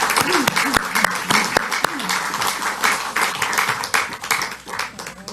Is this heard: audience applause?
yes